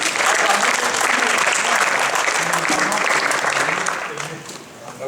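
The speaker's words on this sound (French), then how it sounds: "On les applaudit pour leur deuxième place." A gaming LAN event audience applauds the second-place team at a prize ceremony, with loud, sustained clapping from a crowd that tapers off toward the end as voices carry underneath.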